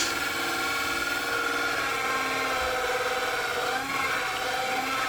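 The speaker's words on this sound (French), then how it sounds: "je vais donc percer sur le côté du bloc support avec cet outil magique qui fait des trous bien ronds" A power drill fitted with a hole-cutting bit bores into the side of a wooden support block, giving a continuous loud whirring grind that holds steady for several seconds with no voices.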